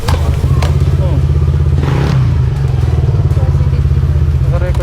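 A motorcycle engine drones loudly and steadily close by in street traffic, a low constant rumble with a passing whoosh and faint clatter, while a voice speaks over it.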